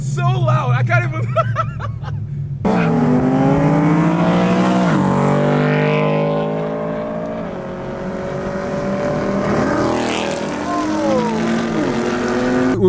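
Loud Mercedes car engine idling and revving close by, a steady heavy rumble that swells and eases over several seconds, with people talking and laughing over it.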